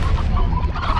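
Chickens clucking and gobbling in the farming game Slime Rancher, a dense, continuous flock chatter over a low rumbling background throughout the second.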